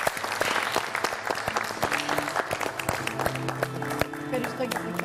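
A Greek TV studio audience applauds in a steady wash of clapping lasting several seconds, with a few speaking voices over it.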